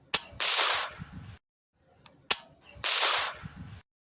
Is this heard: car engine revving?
no